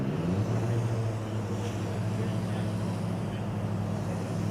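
The combustion engine of the Stuttgart Formula Student race car fires up at the 2021 Formula Student Germany skidpad event: a low, steady, droning engine tone that rises slightly at first, then holds, loud and continuous, under faint background commentary.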